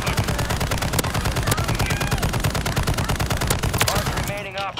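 Sustained machine-gun fire in an online squad shooter video game rattles loudly and continuously, with overlapping bursts filling the whole stretch.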